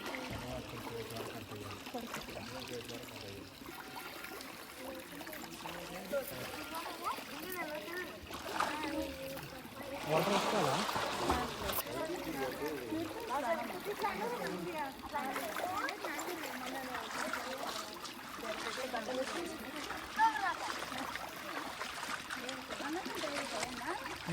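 Water splashes and trickles steadily as people wash their feet at a small temple pond at the Sri Lakshmi Venkateshwara Swamy temple in Telangana, with a busier burst of splashing midway and voices murmuring in the background.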